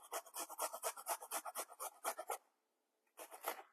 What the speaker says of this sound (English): get my little hand grater out and show you how it comes out if I were to grate